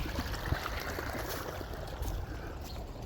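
Irrigation water pours into a farm field with a steady, soft rushing and gurgling wash. It stays constant and fairly quiet, with no voices.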